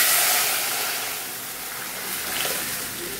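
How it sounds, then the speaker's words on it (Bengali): Spices for moong dal are tempered in hot oil in a home kitchen, giving a steady, close hiss of sizzling that swells slightly toward the end, with no voices. "সেই মুগের ডালটা আগে ফোড়ন দিয়ে নিই"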